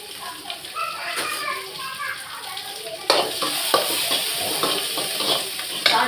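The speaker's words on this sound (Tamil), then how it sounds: "அதுக்குள்ளே வெங்காயம் போட்டு பதவிட்டோம்" Onions and curry leaves sizzle and are stirred in a pan for mutton kulambu, a steady frying hiss that turns louder partway through, with children's voices and talk in the background.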